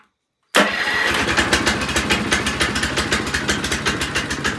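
A Billy Goat brushcutter, choked with throttle set low, fires on its electric start after a moment of silence and settles into a loud, close, rapidly pulsing idle.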